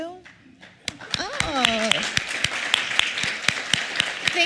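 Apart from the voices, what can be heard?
audience clapping to welcome first-time visitors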